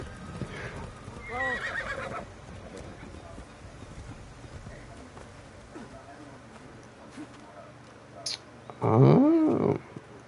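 A horse in the Assassin's Creed Shadows video game whinnies, with a softer neigh early on and a loud, close neigh near the end, over galloping hoofbeats and a talking voice.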